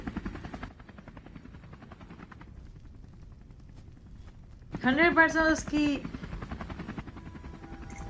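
In a KGF Chapter 2 movie scene, a helicopter rotor churns as a low, steady drone, with a brief burst of voice and music rising over it midway.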